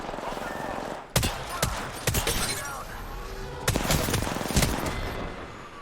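Sustained gunfire in the video game Apex Legends, with sharp loud shot bursts repeating over a continuous rattling background of battle noise, dense and close throughout.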